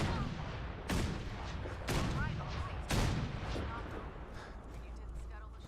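Gunfire in the video game Fallout 4, three sharp shots about a second apart over a steady background rumble, followed by fainter scattered pops.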